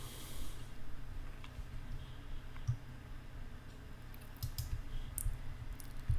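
Computer mouse clicks while editing a Joomla website, a few sparse, faint, sharp clicks scattered over a quiet room hiss with no talking.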